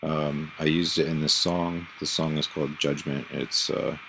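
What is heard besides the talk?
No distinct noise like a dog, phone or traffic.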